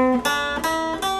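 Mountain dulcimer notes ring out in three plucked strikes roughly 0.4 seconds apart, bright and sustained with a clear harmonic series, each new note cutting off the last, close and solo without voices.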